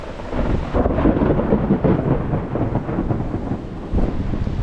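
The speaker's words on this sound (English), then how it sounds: "It was nice watching the storm." Thunder rumbles continuously through an Amazon jungle thunderstorm, a loud, dense roar with steady rain and wind, no voices.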